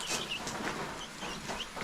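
Farm chickens being fed leftover rice, a flock clucking in short repeated bursts close by, several birds overlapping in quick irregular calls.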